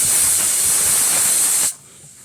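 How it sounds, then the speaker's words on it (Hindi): A pressure cooker on a camp stove outdoors in the hills lets out a loud, steady hiss of steam through its whistle, which stops abruptly after almost two seconds. "तो भाई अपने कुकर की दूसरी सीटी लग रही है।"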